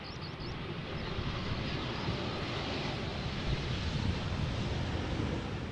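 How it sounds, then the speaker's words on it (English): An Embraer jet in SkyTeam livery arriving from London City, heard as a steady, broad roar of engine and wind noise that holds evenly throughout. "Embraer arriving from London City, SkyTeam livery."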